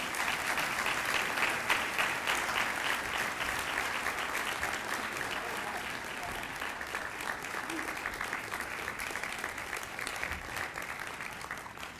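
A large audience applauds steadily to welcome E.J. Dionne at a talk on Catholic political life, a dense, even wash of clapping that holds for about twelve seconds and fades slightly at the end.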